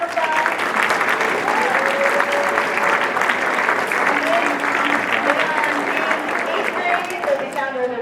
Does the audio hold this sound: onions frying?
no